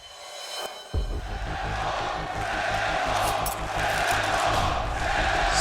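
A packed esports arena crowd at a CS:GO match in Cologne roars into loud, sustained cheering after a brief lull, the dense wash of voices holding steady and close throughout.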